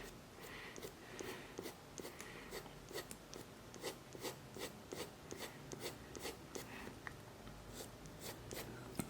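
Pencil being sharpened in a handheld sharpener for realistic drawing, a quiet rhythmic scraping and rasping of wood and graphite in regular short strokes, close and soft, with no talk.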